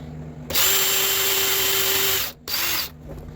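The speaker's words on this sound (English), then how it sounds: "So turn the toothpick around in your drill and use the other half." Power drill spinning a toothpick to clean a pivot hole on a 1920s Sessions mission style clock, a steady high whine for about two seconds, a brief stop, then a shorter burst.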